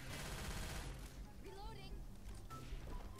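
Rapid gunfire from Left 4 Dead 2 rattles loudly for the first second, then scattered shots and impacts continue more quietly under a busy game mix.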